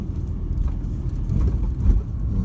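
4WD vehicle engine on the rough, chopped-up Googs Track, a low rumbling drone from inside the vehicle that swells slightly as revs climb toward a gear change.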